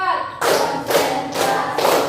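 A standing class claps together in a counted clapping game, four loud, evenly spaced group claps following a brief spoken count.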